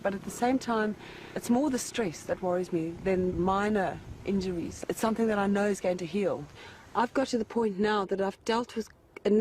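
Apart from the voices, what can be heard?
No everyday noise stands out behind the speech.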